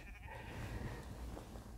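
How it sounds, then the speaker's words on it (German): Sheep on a grassy dike bleat faintly over strong wind noise, a low, distant-sounding call blending with the outdoor rumble. "Zuschauer in Form von Schafen habe ich auch."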